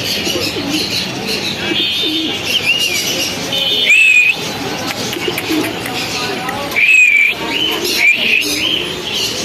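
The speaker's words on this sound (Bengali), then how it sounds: "আর মামার এখানে অনেক কবুতর আছে" Pigeons coo and chirp in a pigeon shop among pairs of racer and lakkha white birds, with high whistling calls rising over someone talking nearby.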